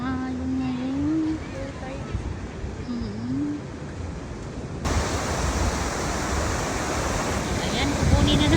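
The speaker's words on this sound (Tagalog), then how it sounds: "Oo nga, lakas ng alon ngayon." Strong waves surging onto a beach: a broad, steady roar of surf that swells louder partway through, with people talking over the wash in the first half.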